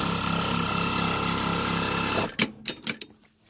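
A sewing machine runs steadily while stitching rows of a T-shirt quilt, a close, even mechanical whir that stops partway through. A few clicks and knocks of fabric handling follow.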